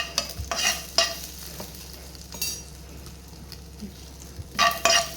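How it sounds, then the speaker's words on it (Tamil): Dried red chillies and ginger pieces stir-fried in a pan for ridge gourd peel chutney, a low sizzle under several brisk scraping stirs and light clinks of a spoon, close by, with no speech. "அதில் இன்னும் கொஞ்சம் ஒரு 5-6 காஞ்ச மிளகாய் போட்டு வதக்குங்க"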